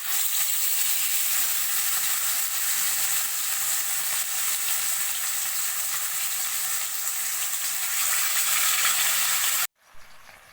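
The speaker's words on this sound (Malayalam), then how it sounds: "ഇനി നമുക്ക് മീൻ ഇട്ട് കൊടുക്കാം." Fish frying in hot oil in a pan for a Kerala-style fish fry, a loud, dense and continuous sizzle held close up, ending abruptly near the end with a faint knock.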